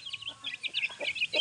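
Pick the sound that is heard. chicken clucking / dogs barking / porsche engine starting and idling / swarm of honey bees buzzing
chicken clucking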